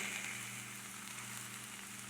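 Cabbage and sausage frying in a pan, a steady quiet sizzle with soft crackling and a faint hum beneath, continuous and even throughout.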